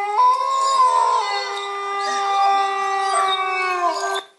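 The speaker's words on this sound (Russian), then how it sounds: "Как собаки будут реагировать на своего сородича волка?" A recording of a wolf howling is played for dogs, giving one long, loud, wavering howl for about four seconds that cuts off sharply at the end.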